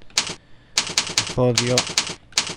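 Close keyboard clicks in several quick bursts separated by pauses, while someone speaks Greek briefly in the middle.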